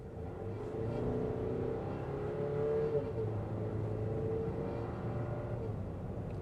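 A 2026 Buick Enclave ST four-cylinder turbo engine pulls steadily under acceleration from about 20 mph, a continuous low droning roar with rising tone and a slight surge midway, close and fairly loud.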